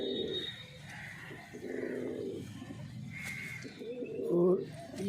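Pigeons coo softly in low, rolling bursts nearby, mixed with a few faint chirps and some background voices.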